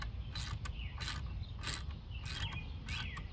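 Faint, repeated mechanical clicking and squeaky pulls of a ratchet wrench torquing a bolt on the brakes of a 1987 Pontiac Fiero, in a rough rhythm of strokes over low background rumble.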